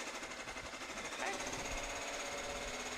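An embroidery machine stitches polo shirts in a work studio, a fast, steady mechanical chatter with a rapid even rhythm, fairly faint and continuous, with a person talking over it.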